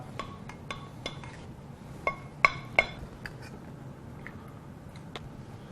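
Metal pans and utensils clinking while fat and liquid are strained off cooked pork, a series of sharp, separate knocks and chinks with quiet gaps between them, close by and with no talk.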